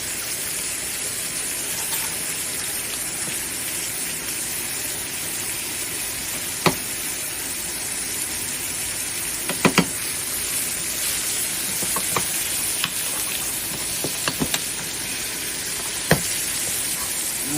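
Butter sizzles and hisses steadily in a hot pan as a steak is basted, a loud continuous frying crackle with occasional sharp pops and spoon clinks, no voices.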